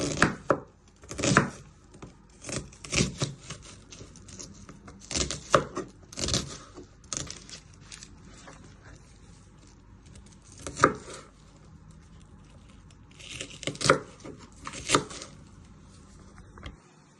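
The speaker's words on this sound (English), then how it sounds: "Then you turn around and you just want to chop it till it all breaks through." A knife chops an onion on a cutting board in irregular bursts of sharp, close thuds, quick clusters separated by short pauses, with no talking.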